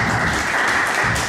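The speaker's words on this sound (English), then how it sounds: "Denzel, give Denzel a round of applause." Audience applause for a volunteer at a church ministry gathering, a dense burst of clapping filling the room, loud and continuous for about a second.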